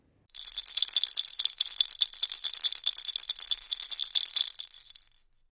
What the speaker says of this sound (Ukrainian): Сподіваюсь, ви здогадались, що це брязкарце.